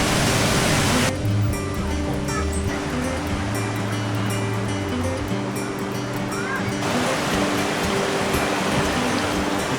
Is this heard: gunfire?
no